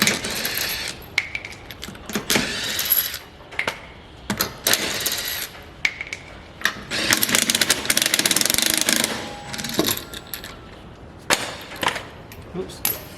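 A cordless drill is tossed onto the ground while coilovers are being fitted to a Subaru WRX, giving several sharp clattering metallic impacts and rattles spread through the clip, loud and close, with brief voices between them.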